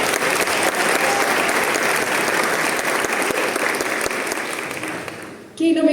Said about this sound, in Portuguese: Aplausos para vocês!